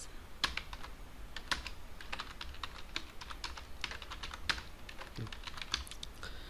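A profile description is typed on a computer keyboard, quick irregular clicks in bursts with short pauses, fairly faint and close with no voices.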